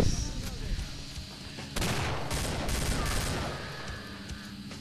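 Rapid, dense gunfire from the video game Killing Floor, with a heavy shotgun blast partway through and continuous shots and game noise behind.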